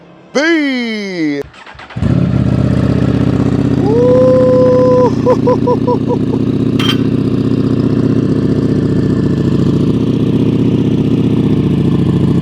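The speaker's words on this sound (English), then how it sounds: "Let's get this cold start going, baby." Ducati Streetfighter V4 motorcycle cold start: a starter whir, then the engine catches and settles into a loud, steady, rumbling idle with a few higher blips, heard close up and alone.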